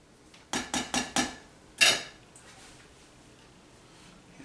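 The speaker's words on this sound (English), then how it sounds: "I'm fixing to go ahead and dump the shrimp in" Shrimp dumped from a container into a pot of corn chowder waiting to boil: four quick clattering knocks in a row, then a louder splashy clatter, followed by quiet, with no talking.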